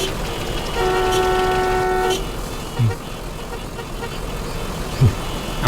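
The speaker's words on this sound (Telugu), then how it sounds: "ఏంటి ట్రాఫిక్ జామ్ అయింది?" Car and train horns toot in a traffic jam. One long harmonic horn blast holds for about a second and a half, and two short low thumps follow later over a steady rumbling street background.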